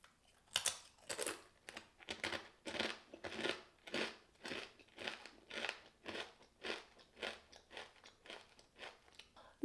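Close, crisp crunching and biting of a Korean croissant waffle topped with whipped cream and Oreo cookie crumbles, steady rhythmic chewing bites for about ten seconds with no talking.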